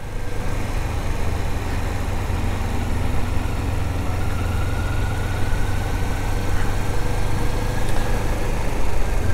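A Kawasaki Ninja 400 motorcycle engine runs at a steady idle with its exhaust note, a constant low rumble held close and loud with no change in pace and no talk.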